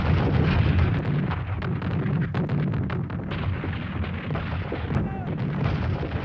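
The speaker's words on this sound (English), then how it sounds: "The shelling of the city began at precisely 7:12 a.m." Artillery shelling a city during the Battle of Verdun: dense rumbling barrages and booming impacts, loud and continuous with scattered sharper blasts.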